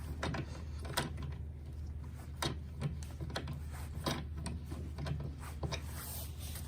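Kingpin bolt being tightened on an electric skateboard truck over the bushing and washer, drop-through deck mount: a run of short metallic clicks and ratcheting ticks at an uneven pace, close by, over a steady low hum, no talking.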